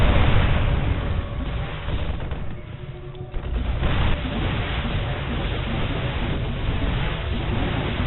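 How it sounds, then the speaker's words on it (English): Siege tanks in siege mode firing in StarCraft 2: continuous loud barrage of booming blasts and crackling impacts, dipping briefly midway before the bombardment resumes. "the siege tanks in siege mode are now blasting away at these marauders"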